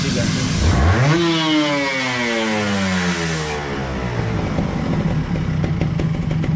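A motorcycle engine with a carburettor is blipped from idle, revving up sharply and then falling back in a long descending whine before settling to a steady idle, loud and close.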